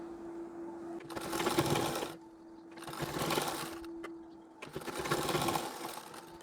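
A sewing machine sews long stitches along a folded saree edge in three short bursts of steady whirring, each lasting about a second or two, with a faint hum running between them.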